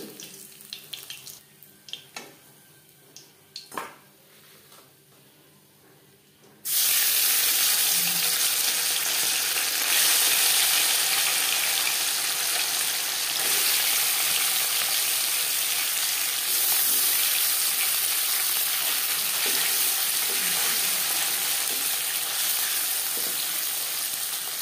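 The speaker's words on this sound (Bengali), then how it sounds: "প্রথম ব্যাচের মাছ ভাজা হয়ে গেছে" Bata fish frying in oil in a pan: after a few quiet clinks, a loud, dense, continuous sizzle bursts in close by and keeps crackling steadily to the end.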